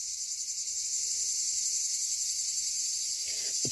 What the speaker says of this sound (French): C'est une guêpe ou une abeille, ça?